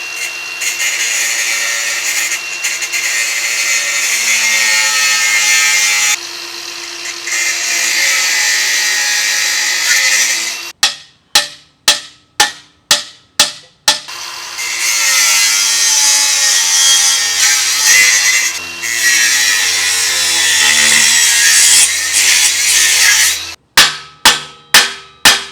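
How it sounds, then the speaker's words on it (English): Angle grinder cutting the frame of a Razor MX650 electric motorbike outdoors, a loud, close, sustained high-pitched whine in long runs, broken by a series of sharp rhythmic impacts between cuts. "I got the angle grinder here"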